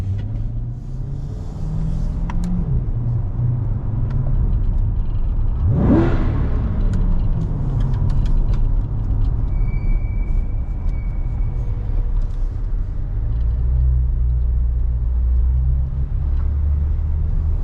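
A C8 Corvette Stingray coupe revs its engine inside a parking garage, a steady loud rumble and whir rising in one sharp rev burst partway through, echoing off the concrete with no talking.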